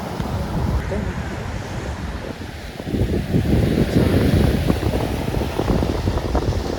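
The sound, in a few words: waves where river meets the sea at beach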